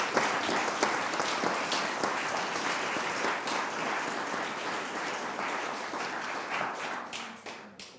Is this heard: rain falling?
no